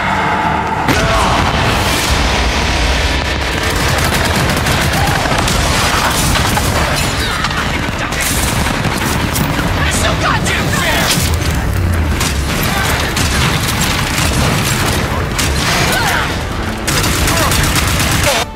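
Open-world shooter gameplay from Bethesda's E3 2018 showcase: loud, nonstop gunfire bursts and booming explosions crowd the whole stretch, with voices mixed in under the din.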